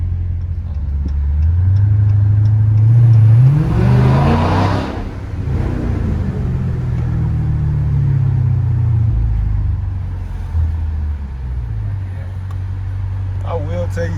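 A Dodge Challenger 1320 fitted with a Corsa exhaust rumbles loudly and close, its deep engine note swelling in a rev before settling back to a heavy idle, with people talking nearby.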